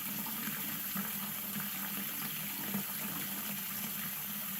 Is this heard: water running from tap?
yes